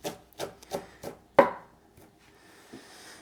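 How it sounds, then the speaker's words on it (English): A knife chops herbs finely on a cutting board with five crisp, close taps in a steady rhythm, then a quieter scrape and a soft tap as the blade works through. "And then I'll just keep running my knife through."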